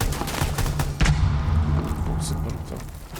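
Gunfire in Rainbow Six Siege heard through in-ear monitors: dense, thumping shots and impacts with a strong low rumble that pile up into a constant battle din, with a voice talking over it.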